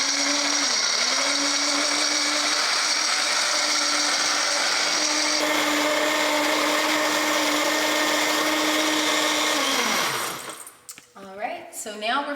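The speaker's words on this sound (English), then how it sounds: "So now we're just gonna go ahead," A blender runs steadily at high speed, whirring loudly as it purees cashews for a cashew cheese, then winds down and stops near the end while a person starts talking.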